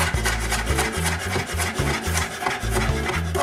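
A knife slices cauliflower and potatoes into thin slices on a board, producing a continuous raspy scraping and rubbing with repeated strokes over a steady low hum.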